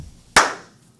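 One sharp, loud hand clap rings out close by and decays quickly into a quiet room.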